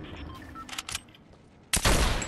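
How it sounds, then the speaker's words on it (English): Sniper rifle fire in a video game: a few short, sharp cracks early on, then one loud, close blast with a trailing rumble near the end, with no speech. "That was the ammo sniper rifle."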